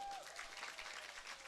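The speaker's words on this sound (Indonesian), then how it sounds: "Tepuk tangan untuk Bib Muhsin dong." Faint crowd clapping at a sholawat religious gathering celebration, brief and steady, heard at a distance with a thin tone running underneath.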